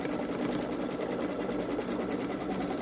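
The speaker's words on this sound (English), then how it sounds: "as I continued to quilt this edge to edge and move the fabric across" A Babylock Solaris Vision sewing machine runs steadily at speed while quilting fabric edge to edge, giving an unbroken, even mechanical whir with rapid stitching pulses.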